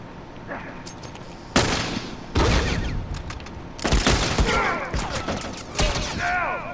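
Gunfire in a shooter video game: several sharp bursts of rapid shots in separate volleys, loud and close, with voices talking between them.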